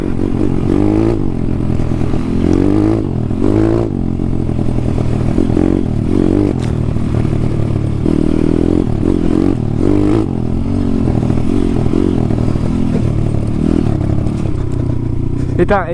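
An enduro dirt bike, an RXF, revs on a muddy, greasy trail to fling mud off its tyres, its engine loud and close with a steady rumble, rising and falling throttle bursts, and clattering throughout, while a person talks over it.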